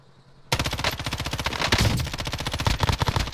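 Sustained automatic gunfire from an M13 rifle in Call of Duty Modern Warfare bursts in suddenly and keeps a fast, even rhythm of loud, close shots.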